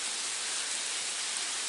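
Rain falls steadily outside an open window, a dense continuous hiss with no gaps, fairly close and even in loudness, with no voices.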